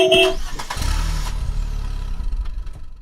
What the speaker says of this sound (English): The car is in a traffic jam.